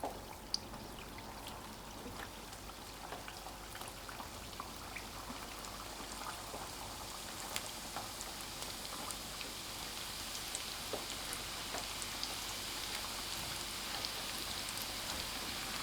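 Mahua dough twists deep-frying in a pot of hot oil over medium-low heat, a steady dense sizzle and fine crackle that holds at an even moderate level throughout, with no talking.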